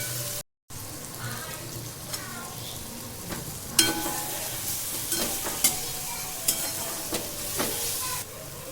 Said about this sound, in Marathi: आपण याच्यामध्ये काजू टाकणार आहे काजू टाकते आता